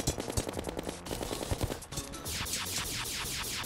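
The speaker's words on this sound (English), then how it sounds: "let's switch to the laser rifle since it'll penetrate" Rapid-fire laser rifle shots in Terraria during a boss fight, a dense, loud stream of zapping bursts with sweeping electronic pitch runs, continuous and alone without talk.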